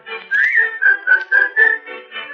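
A person whistles a short, bright tune, a run of clear sustained notes rising and stepping along in a steady rhythm, close and alone with no other sounds.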